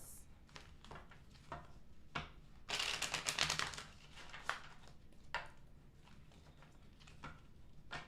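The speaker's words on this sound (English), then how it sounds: "2 more shuffles." Tarot deck being shuffled by hand in a series of crisp riffles and flicks, one longer burst of card slaps near the middle, close and fairly quiet, with a voice murmuring faintly at times.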